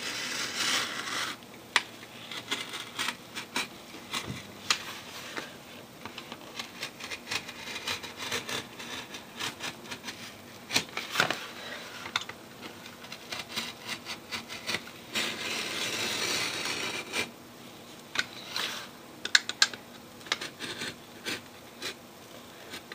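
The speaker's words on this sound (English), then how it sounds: "With the aid of the good old X-Acto knife, let's cut this out." An X-Acto knife cuts an opening for a homemade bokashi composter, producing faint, intermittent scraping and rubbing strokes with occasional sharper clicks, quiet and close with no talking.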